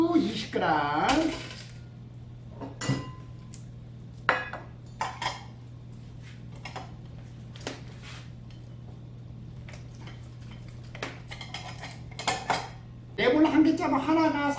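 Sugar and lemon juice are stirred in a bowl, with scattered utensil clinks and scrapes against the dish under a low steady hum, and a voice speaking at the start and end.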